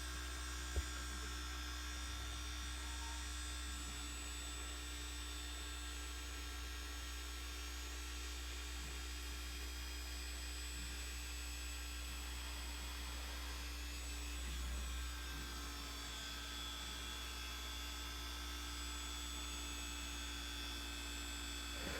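A 6-inch Lake Country microfiber cutting pad on a car polisher works a Mercedes door panel, giving a steady, even motor whine and hum that runs unbroken at moderate level, with no talk.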